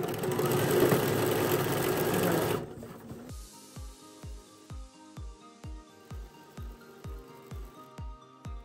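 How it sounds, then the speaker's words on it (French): A sewing machine reinforces the seam of a zippered cushion cover, first a continuous whirring run, then about a dozen slow, evenly spaced single stitches thumping one by one, close and alone. "je vais rentrer pour renforcer la couture"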